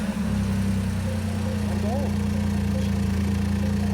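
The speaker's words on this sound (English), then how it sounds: "Our car has started." A 2014-or-later third-generation MINI Cooper, just jump-started from a battery pack, idles with a steady, even hum close by and no talk over it.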